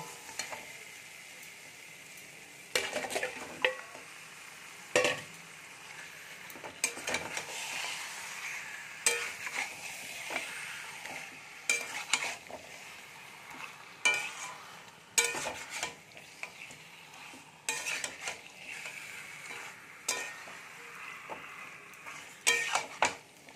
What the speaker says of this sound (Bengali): এবারে ধুয়ে পরিষ্কার করে রাখা চিকেনটা দিয়ে দেব